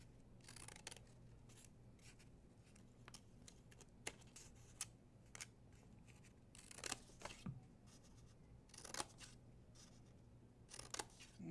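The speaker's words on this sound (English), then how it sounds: "you're going to snip, snip, snip all the way" Scissors snip through paper in a quiet room while a paper craft is cut out, the short crisp cuts coming in an irregular series, some sharper and louder than others, over a low steady hum.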